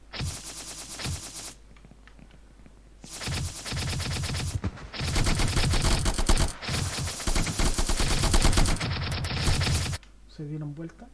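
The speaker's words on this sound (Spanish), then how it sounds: "Empieza a disparar y los otros se escuchan, se dan vuelta" Bursts of automatic gunfire from enemies in an Unreal Engine 5 shooter game, loud rapid volleys in several long stretches separated by short pauses, ending in a quieter tail.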